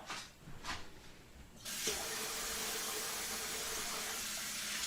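Kitchen tap turned on to rinse food, a sudden steady rush of running water that starts partway through after some quiet handling sounds and continues close and even to the end.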